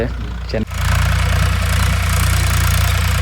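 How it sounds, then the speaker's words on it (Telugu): A tractor engine drones steadily while ploughing a field for sowing chickpeas, a loud close low rumble that cuts in after a brief pause and holds on. "ఇక్కడ మెయిన్గా చూసుకుంటే ట్రాక్టర్ దున్నడం జరుగుతుంది"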